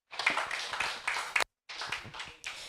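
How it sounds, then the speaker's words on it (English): A small audience at a leadership talk claps in two short bursts separated by a brief pause, fairly quiet and close, with light irregular claps. "Another round of applause."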